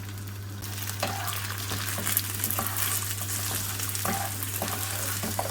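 Washed, drained rice added to hot olive oil, giving a continuous loud frying sizzle with occasional stirring scrapes over a steady low electrical hum.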